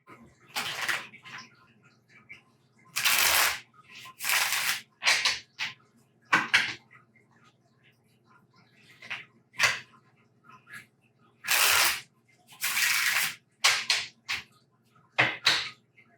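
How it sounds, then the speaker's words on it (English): Tarot cards are shuffled by hand in a quiet room, a series of short, crisp riffling bursts separated by pauses of near silence, close and fairly loud, with no one speaking. "I'm going to shuffle the cards for a moment."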